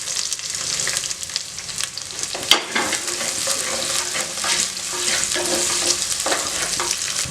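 Onions sauté with garlic in a pan for a fish curry, a busy continuous sizzle broken by scraping stirs and one sharp clack partway through.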